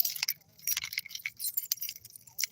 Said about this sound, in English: Keys as my noise makers.